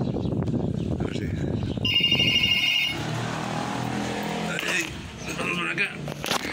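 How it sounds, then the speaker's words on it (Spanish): A telephone rings inside an open public phone kiosk on a town's main plaza, its tone sounding briefly amid street noise, passing traffic and people talking nearby. "del sitio dejan abierta la caseta y está sonando el teléfono."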